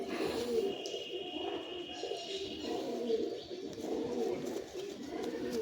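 Imported Giribaz pigeons coo in soft repeated low calls, close by and fairly quiet, overlapping one another against a light background murmur.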